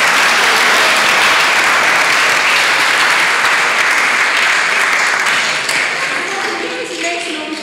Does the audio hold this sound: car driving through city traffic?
no